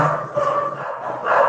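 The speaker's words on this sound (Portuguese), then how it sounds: "Estou ouvindo aí cachorros." Dogs barking, muffled and somewhat distant, a few overlapping barks heard through a lo-fi connection.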